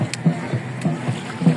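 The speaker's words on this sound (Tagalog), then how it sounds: "may nagkakarera ng dragon boat" Dragon boat race on Manila Bay at Dolomite Beach, rhythmic paddle strokes and water splashes pulsing at a steady beat, with faint background voices and distant drum-like thumps.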